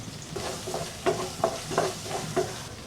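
Mustard seeds, turmeric and asafoetida sizzle in hot oil over medium heat while a spoon scrapes and stirs the pan in a steady rhythm of four or five strokes.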